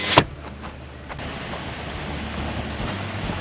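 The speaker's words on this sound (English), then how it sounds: "Close that window." A truck's power window closing in rain beside Kennedy Lake, a sharp knock at the start followed by a steady low motor hum over the hiss of rainfall.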